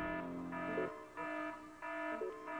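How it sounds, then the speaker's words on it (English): Alarm sounding in the video game Evil Genius, a repeating electronic buzz-tone that pulses on and off in regular bursts about every half second to second, moderately loud with no talk. "Now, if we could actually have the alarm go down,"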